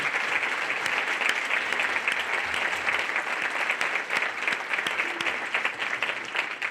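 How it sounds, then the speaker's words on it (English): An audience at a Martin Luther King Jr. commemorative breakfast gives a round of applause, moderately loud and steady throughout, with scattered individual claps heard above the general patter. "Please join me in giving him another round of applause, Mr. Al Mitchell."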